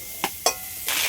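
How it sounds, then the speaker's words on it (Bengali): Papaya and potato frying lightly in a pan with salt and turmeric, a steady sizzle broken by two brief stirring scrapes, then the hiss swelling louder near the end. "পেঁপে আর আলুটা একটু হালকা করে ভেজে নেব।"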